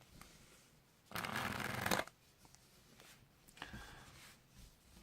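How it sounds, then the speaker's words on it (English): A quick riffle of playing cards, one loud brisk shuffle followed by softer card handling close by. "And we'll even give it another shuffle."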